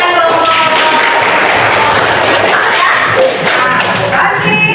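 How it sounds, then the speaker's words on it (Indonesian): Classroom audience of students clapping hands together in a dense, steady burst of applause, loud and close, with some voices mixed in. "Tepuk tangan dong."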